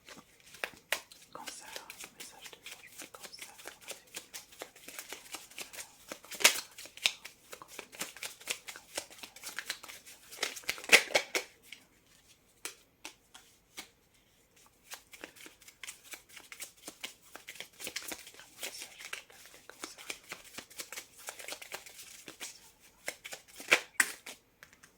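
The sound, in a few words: shuffling tarot cards for a reading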